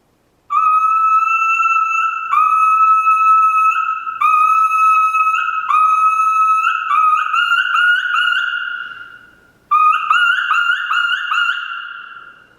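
Repeated high whistled notes from a turkey mouth call imitating a lost young turkey, first held steady, then breaking into quick pleading yelps that drop in pitch, loud and close.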